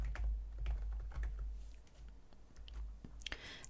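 Computer keyboard typing, a quiet, steady patter of close key clicks with no voice over it.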